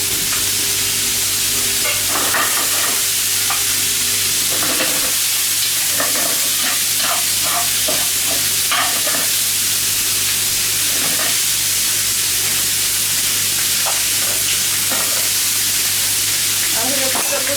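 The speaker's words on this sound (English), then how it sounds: "I'm going to put a little bit more oil in there just to get that brown." Stock ingredients brown in oil in a pan with a loud, continuous sizzle and hiss, broken by intermittent scraping and clinks from stirring.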